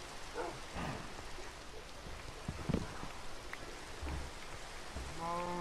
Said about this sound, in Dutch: het is aan het regenen